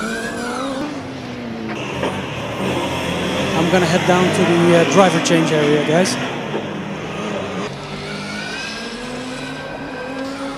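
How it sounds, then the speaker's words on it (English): A Valencia Formula Student combustion race car during an endurance event, its engine revving and pitching up and down as it passes nearby, under ongoing commentary. "Valencia car also sounds very nice"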